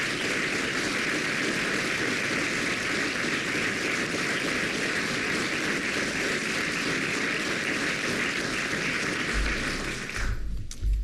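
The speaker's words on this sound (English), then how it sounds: "Let's give both families a big round of applause" A large crowd applauds steadily at a memorial gathering honouring two families, a dense, sustained roar of clapping that continues unbroken for about ten seconds before breaking up near the end.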